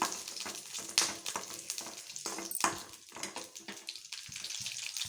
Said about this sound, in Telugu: ఆయిల్ వేశాను దీంట్లో పచ్చిమిర్చి వేద్దాం దీంట్లో పచ్చిమిర్చి వేశాను